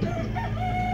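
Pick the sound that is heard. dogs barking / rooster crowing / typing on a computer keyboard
rooster crowing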